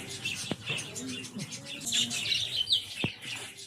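A bird farm holding lovebirds, cockatiels, finches and budgerigars fills with busy overlapping chirps and tweets, plus a couple of sharp calls and a low cooing, with faint talk in the background.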